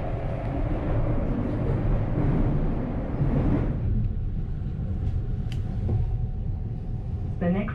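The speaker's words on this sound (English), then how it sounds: "riding through a tunnel and pulling up to one of these stations like this" A train rumbles loudly through a tunnel, then slows as it pulls into Marine Drive station, with brief squeals and clanks near the end.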